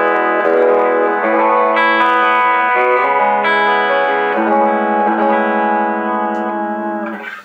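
Dave Berry T90 electric guitar played through its hot back pickup, sustained distorted chords and bends with chorus and reverb, loud and close, ringing alone for several seconds before cutting off.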